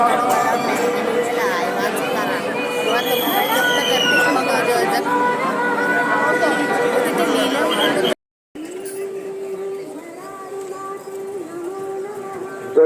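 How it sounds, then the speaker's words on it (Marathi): Dense crowd of devotees at the Anganewadi Bharadi Devi annual fair in Sindhudurg, a continuous loud murmur of many voices and chatter, briefly cutting out before a quieter stretch of crowd noise with a drawn-out tone. "गर्दीचा ओघ आता वाढत चाललेला आहे."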